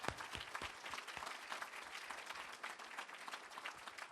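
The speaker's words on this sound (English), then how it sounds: "Again, applause for them." Audience applause after a presentation at a community livability challenge event, dense steady clapping from a sizable crowd with a few sharper nearby claps and a brief cheer, sustained at even loudness throughout.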